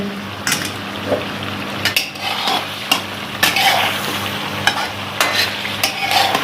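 Black and white pepper stirred into chicken karahi in a pan, with a busy sizzle under repeated clanking scrapes of a metal spoon against the pan, close and fairly loud, and no talking.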